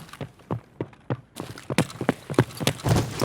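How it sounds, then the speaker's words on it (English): Footsteps on wood in Escape from Tarkov, a run of irregular thudding steps that start soft and grow louder and denser, close by with a hollow knock to each impact and no speech. "Now I hear that footsteps in the door on the wood there."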